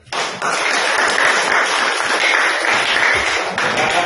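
A classroom group claps steadily for the third presenting group, dense and fairly loud applause that starts abruptly and holds for about four seconds with no talk.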